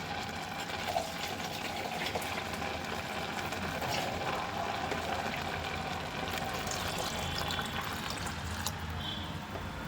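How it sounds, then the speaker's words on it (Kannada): Water is poured into a pressure cooker pot holding brinjal ghee rice with milk, a steady, continuous filling gush with faint trickling that stays even and close for the whole stretch. "ಇದಕ್ಕೆ ಎಷ್ಟು ಬೇಕೋ ಅಷ್ಟು ನೀರು ಹಾಕ್ಕೊಂಬಿಡೋಣ"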